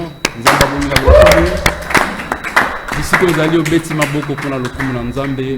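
A church congregation claps in praise of the Lord, sharp near claps falling in a quick, uneven rhythm over voices and singing throughout.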